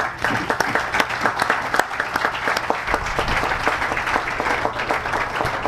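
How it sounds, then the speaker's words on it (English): Loud applause from an awards-ceremony audience for Inspector Bailey, a dense continuous roar of clapping with crisp nearby hand claps punctuating it throughout. "Please applaud Inspector Bailey."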